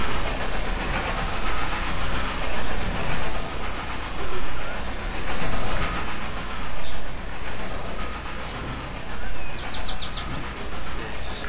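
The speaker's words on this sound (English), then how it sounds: "Train is going so well so far." Video game train rolling along rails with a steady, rhythmic clatter and hiss, sustained and fairly loud throughout, with a few faint higher tones near the end.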